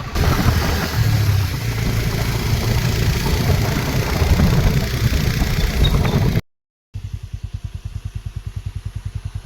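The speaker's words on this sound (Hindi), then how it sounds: "तो मैं उनके साथ बाइक पे भराड़ा के लिए अब निकल पड़ा हूँ" Motorbike ridden on the road toward a village, its engine droning steadily under loud wind rush, then after a brief cut a closer, rhythmic engine chug with rapid regular pulses.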